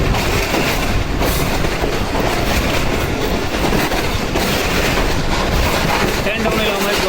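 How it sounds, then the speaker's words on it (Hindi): The Allama Iqbal Express, running from Sialkot to Lahore, rolls into Shahdara station with a loud, continuous roar of wheels on rail and rhythmic clatter, close by, while someone talks over the noise. "ये हमारी ट्रेन शादरा में एंटर हो चुकी है"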